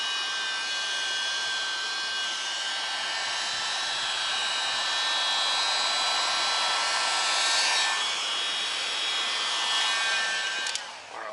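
Heat gun blowing steadily on the plastic of an Alfa Romeo Giulia Quadrifoglio mirror during a carbon fiber mirror install, a constant close airy whir with a faint high whine, cutting off abruptly at the end.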